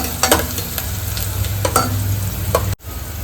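Onions fry gently in a pan over a low gas flame, a continuous soft sizzle broken by a few spoon scrapes, then cutting off abruptly before a quieter hiss resumes.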